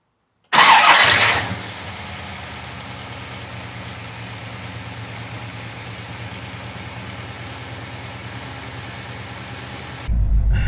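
A 1971 Chevelle SS454 big-block V8 cranks and fires with a loud burst, then settles into a steady rumbling idle that runs on alone, close by.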